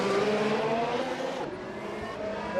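A race car engine in the pit lane in Assetto Corsa, modded as a 2018 Formula 1 car at the Baku City Circuit, holds a loud, steady, high-pitched drone close by that shifts slightly in pitch and carries no talk.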